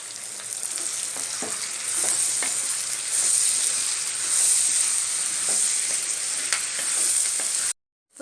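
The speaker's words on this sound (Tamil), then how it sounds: "இப்போ வெங்காயம் தக்காளி எல்லாம் நல்லா வதங்கிடுச்சு" Onions and tomatoes fry in a pan with a steady close sizzle and crackle, occasional soft stirring taps cutting through the hiss, before the sound drops out abruptly near the end.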